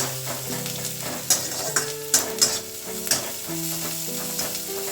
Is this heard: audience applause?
no